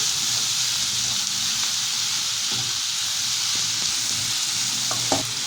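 Sausage sizzles loudly and steadily in a hot pan while it is stirred and turned, a constant bright frying hiss with a few faint scrapes and taps near the end.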